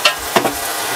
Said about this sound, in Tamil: பூண்டு பேஸ்ட் போட்டு வதக்கியாச்சு